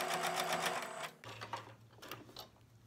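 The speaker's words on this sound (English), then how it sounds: "put this under my machine. And then sew all the way to the end" A sewing machine stitches lace, a close, quiet rapid whirr that runs for about a second, stops, then resumes in short uneven bursts.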